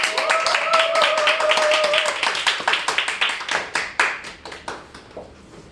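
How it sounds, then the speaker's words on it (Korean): Audience applause at a lecture on back pain, a dense burst of many hands clapping that thins out into scattered individual claps as it fades. "3배 이상의 박수로 자 모시도록 하겠습니다"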